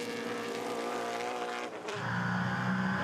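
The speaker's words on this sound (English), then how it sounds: "Kerry Hitt in the 19 in his Corvette, running back in 11th spot now as he attacks the S's" A Corvette race car in the 2015 Trans Am Series at Road Atlanta, heading into the S's, gives a loud, continuous engine roar. The engine dips briefly as it lifts or shifts, then climbs back to full revs. No one speaks.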